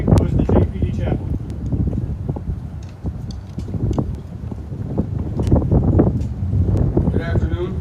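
Wind buffets a microphone outdoors at a Peace Officers Memorial Day ceremony, gusty rumbling bursts that rise and fall while someone speaks.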